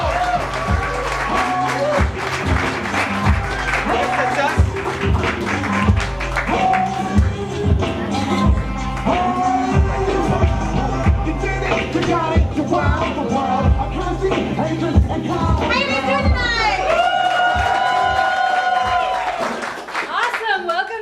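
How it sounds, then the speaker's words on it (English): Audience clapping at an improv show at OKC Improv, steady applause and crowd noise running throughout alongside music and voices. "Get your hands clapped."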